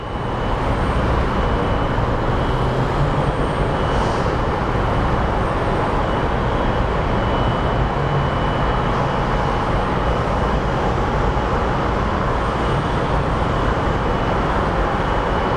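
Southwest airliner landing after arriving from Colorado Springs at Phoenix Sky Harbor airport, a steady broadband roar of jet engine and wind noise held at constant loudness throughout, distant and without speech.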